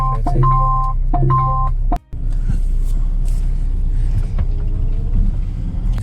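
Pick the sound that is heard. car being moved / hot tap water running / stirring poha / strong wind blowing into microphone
car being moved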